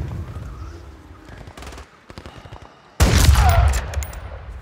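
Gunfire in the video game Call of Duty Modern Warfare 3, scattered quieter shots that break into a loud, dense burst of rapid automatic fire.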